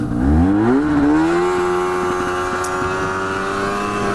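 A snowmobile engine runs on a snowy, powdery trail through white trees, rising in pitch early, then holding a steady, loud, close whine for several seconds.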